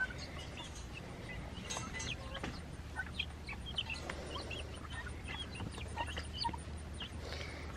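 Chicken sounds in a Spanish-speaking family's yard, with a rooster nearby; soft scattered clucks and chirps rise over a steady outdoor background hum, faint and somewhat distant, with no talking.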